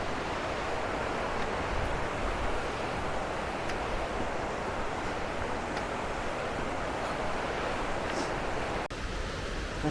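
A river beside a hiking trail near Mount Robson toward Kinney Lake pours down in a continuous waterfall, a steady broadband rush of moving water with no pauses or voices.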